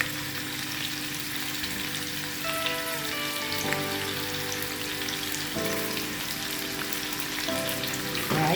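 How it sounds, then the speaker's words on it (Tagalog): Beef and white mushrooms fry in a pan with a steady, dense close-up sizzle and crackle, an occasional stir breaking the hiss, continuous and fairly loud throughout with no voices. "I-fry muna natin mga ka-angels."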